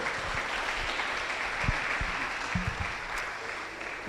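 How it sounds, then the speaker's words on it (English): An audience applauds in a university lecture hall to welcome the Vice Chancellor before his address at an entrepreneurship and innovation lecture, a steady moderate clapping that fills the room without pause, a few louder claps standing out. "I thought your applause would be more resounding"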